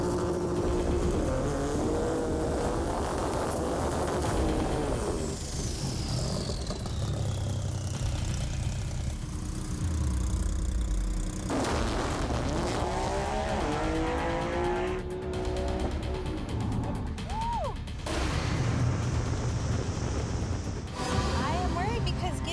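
A 2,500 horsepower GTR on a quarter-mile drag strip roars loud and close, engine pitch rising and falling through runs and revving, with people talking over it at times.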